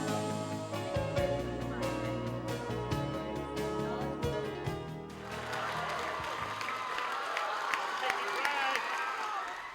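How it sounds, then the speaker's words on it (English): Music plays at first, then gives way to a large crowd of students and faculty applauding and cheering in a loud, sustained wash of clapping. "The overwhelming applause and cheers by the students and faculty"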